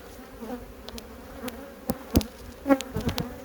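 A honeybee colony buzzes during a spring hive inspection, the faint hum overlaid by irregular nearby bee passes, taps and knocks of handling at the hive, growing busier toward the end.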